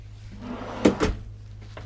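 A drawer in the bathroom of a 2021 Newmar Dutchstar 4081 motorhome is pulled open and pushed shut, giving two quick close wooden knocks less than a second apart over a low background hum.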